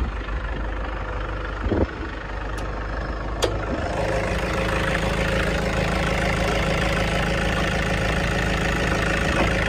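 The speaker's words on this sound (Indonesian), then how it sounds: "Ini mesin tak biarin nyala, AC juga nyala. Teman-teman bisa dengarkan suara mesinnya." A 2012 Toyota Kijang Innova G diesel idles nearby with its air conditioning on, a steady, low, knocking rumble and a constant whir; a couple of brief clicks come early on.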